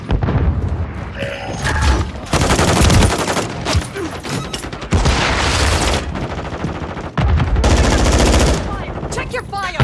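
Dense gunfire from the multiplayer video game Call of Duty: Modern Warfare 3, with bursts of rapid automatic fire and loud booms in near-continuous volleys, plus brief game voices.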